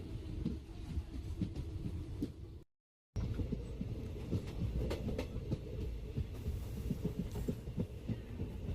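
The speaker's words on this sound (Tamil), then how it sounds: "நம்ம பயணம் பண்ணக்கூடிய ரயிலானது சுமார் 27 நிமிட தாமதத்தில் ஸ்ரீவில்லிபுத்தூர் ரயில் நிலையம் வந்திருக்குங்க." A Madurai to Sengottai passenger train arrives at a station, its wheels thumping over rail joints in a rumbling, rhythmic clatter that drops out briefly before resuming, with no talking.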